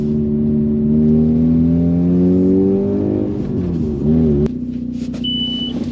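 Mazda RX-8 SE3P with a rotary engine, driving at low speed with a steady rising engine note that drops sharply near the four-second mark, followed by a steady idle and a thin electronic beep.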